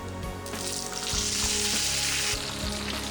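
Curry leaves hit hot oil with a loud, steady sizzle, tempering for a raw plantain and dry fish curry after the gas is switched off. A bright crackling hiss runs throughout, with a few low knocks of the pan.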